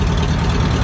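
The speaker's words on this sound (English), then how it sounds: "that tractor sounds good" An old tractor rated around 29 horsepower idles close by, a steady, loud, low-pitched engine drone that holds even throughout the brief stretch, with no voices.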